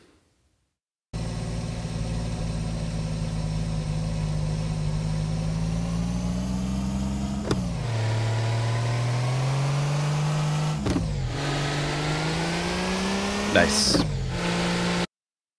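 A car engine in a Unity game drones steadily at high revs, dropping in pitch at gear shifts around the middle and again near the end, loud and continuous with a brief word spoken.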